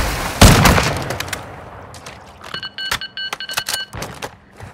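Gunfire in a Call of Duty DMZ fight in Sawah, with one loud close shot followed by scattered sharper shots and bursts, mixed with clanking and metallic movement noises.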